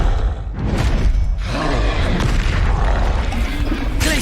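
In Hogwarts Legacy, a Confringo blasting curse goes off with a loud, heavy boom. Thudding impacts and rumble follow closely and keep the sound dense and forceful throughout.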